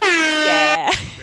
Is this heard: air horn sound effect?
yes